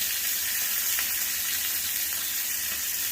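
A tomahawk steak sears in hot ghee in a pan, giving off a steady, close, dense sizzle and crackle that holds evenly throughout with no voices.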